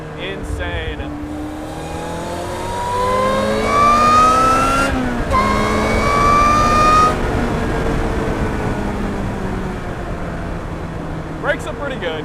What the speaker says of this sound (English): the sound of the intake opening behind you and the supercharger whine,